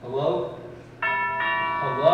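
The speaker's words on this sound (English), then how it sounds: "That's the doorbell here" A doorbell rings on stage during a school performance of Arsenic and Old Lace: two sustained, bright chime tones follow a voice calling out, the second overlapping the fading first before talk resumes.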